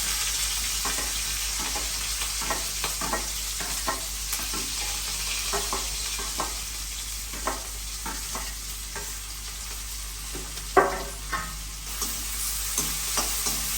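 Onions saute in a pan for rava vada, a steady broadband sizzle with scattered soft scrapes and clicks of stirring throughout, close and fairly quiet, no talk.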